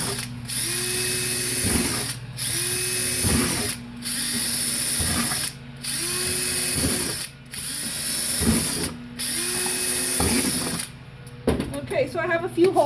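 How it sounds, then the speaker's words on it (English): A drill bores holes in plastic for a worm farm, whirring in about six short bursts separated by brief pauses, close and loud, followed by a voice talking at the end. "we're going to just drill a few holes"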